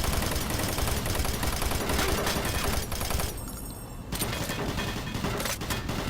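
Gunfire in the video game Doom 3, a dense barrage of rapid shots and impacts that briefly drops away before resuming, loud and close throughout.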